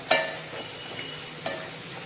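Onions fry until brown for tamarind rice, a soft steady sizzle with a few sharp clicks of a spoon stirring the pan, quiet and close.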